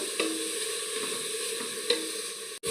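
Onions sauté in coconut oil inside a pressure cooker, giving a steady, even sizzling hiss with faint crackles and a brief knock near the end.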